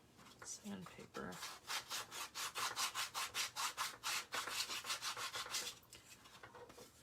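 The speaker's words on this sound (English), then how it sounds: "I'm just gonna take my sandpaper" Sandpaper rubs the edges of a paper A-2 card folio in quick, rhythmic back-and-forth strokes, about twenty soft scratchy passes close by, fairly quiet overall.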